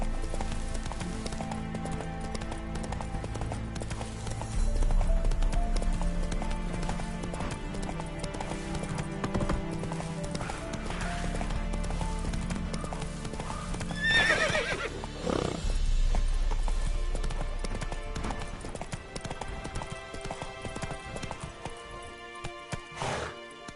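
Hooves of Roach, a horse in The Witcher 3, clip-clop steadily through a long gallop, with occasional whinnies and layered game music and ambience beneath the hoofbeats.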